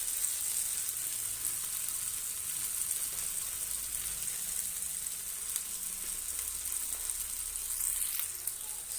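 Spicy masala powder and mashed tomato sizzle steadily in hot oil, a continuous close frying hiss with faint stirring scrapes and no talking.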